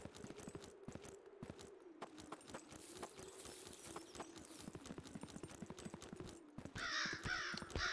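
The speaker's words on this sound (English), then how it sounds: "Hear footsteps, and it's definitely not that bunny rabbit." Rhythmic footsteps thud steadily in the 2D shooter Zero Sievert, a fast close patter running almost the whole time over a low droning hum, with a brighter burst of noise near the end and no talk.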